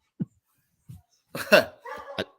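A dog in a room behind a person barks a few times: two short, soft yips, then a louder burst of two or three sharp barks close by, with no talk over it.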